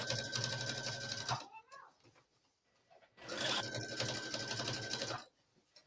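A sewing machine edge stitches a button band on a black wool skirt, running steadily in two bursts of about a second and a half and two seconds with a quiet pause between them, close and fairly loud.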